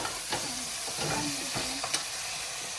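Onions for a tadka fry in a pan, giving a steady close sizzle with a few clinks and scraping stirs of a utensil throughout, no voices.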